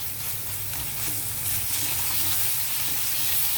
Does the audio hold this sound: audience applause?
no